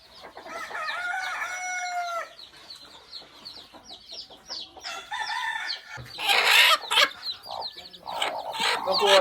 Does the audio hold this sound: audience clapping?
no